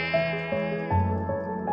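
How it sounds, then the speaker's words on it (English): Synthesized insect buzzing standing in for swarming flies in a cartoon-style retelling of the Exodus plagues, a steady harmonic drone that shifts pitch in a few steps over about two seconds, with no talking. "then flies, bzz, bzz"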